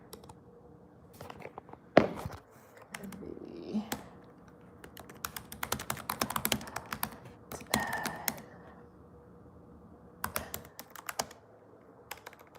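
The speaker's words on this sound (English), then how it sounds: "I'm trying to type online and talk to you at the same time" Fast keyboard typing close by, bursts of clicky keystrokes coming in runs with short pauses, no talking.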